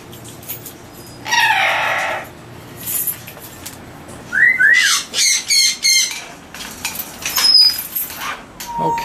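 Yellow-naped Amazon parrots squawk inside an aviary, with a long harsh burst early on, then a rapid series of loud, rhythmic calls and scattered sharp chirps nearby.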